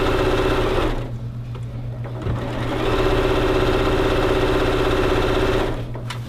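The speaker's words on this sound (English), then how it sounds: "I'm going to take a few stitches back and then sew all the way around in one big circle." A sewing machine stitches steadily around a simple skirt, running in long continuous bursts with a brief pause in the middle before it speeds up again.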